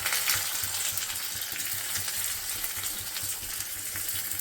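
Garlic and onion frying in a pan for a radish and lentil saaru, a loud, dense, continuous sizzle that holds steady throughout, with no voices.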